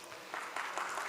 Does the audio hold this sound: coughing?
no